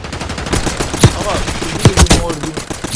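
Gunfire in Warzone Mobile on Rebirth Island, loud close bursts of shots and impacts over a busy game soundscape, with several sharp peaks spread across a few seconds.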